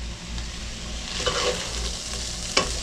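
Garlic sizzles steadily in a hot pan in a country kitchen, with a low constant frying hiss, soft stirring scrapes and a sharp utensil clink near the end.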